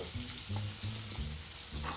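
Veal sweetbreads fry in browning butter, a close, steady sizzle with soft bubbling crackle throughout, and no voices.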